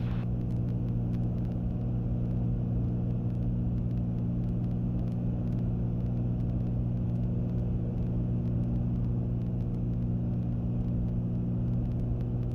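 Steady, droning cabin noise from a Cessna 310 twin-engine airplane in flight, with strong low harmonic engine hum held evenly throughout and no voices.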